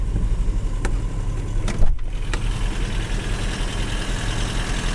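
A 1993 Toyota pickup with a worn 22RE engine needing a timing chain idles nearby, giving a steady low rumble and mechanical clatter with a few sharp ticks over the drone.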